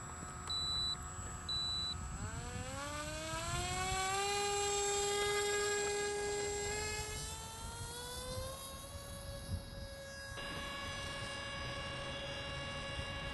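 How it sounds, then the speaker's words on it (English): An Axon Phoenix model airplane's electric motor throttles up for takeoff, its whine climbing steeply in pitch and holding a steady high-pitched buzz, heard nearby with a couple of short beeps at the start. "We're gonna take off, bank left, and make a circuit. All right, let's go for it. Throttle up."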